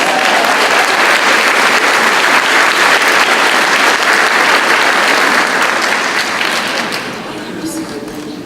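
Audience applause at a 2019 Sam Houston State University College of Education teacher pinning ceremony, a dense, steady clapping from a large room that holds loud for several seconds, then thins and fades toward the end.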